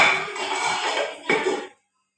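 Dishes, including clay pots, clatter and scrape in a short burst of clinking, fairly close, then stop abruptly into silence.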